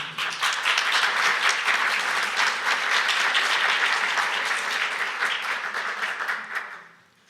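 An audience at a Peruvian academic music-theory panel applauds a speaker being welcomed, a full, even burst of clapping that holds strong for several seconds and then tapers off quickly at the end.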